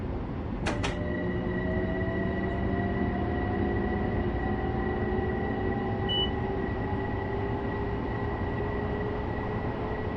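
Steady rumbling of a train rolling past in a train simulator video game, with long sustained whining tones and a sharp click near the start; no voices.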